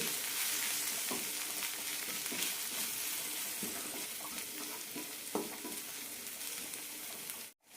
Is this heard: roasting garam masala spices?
yes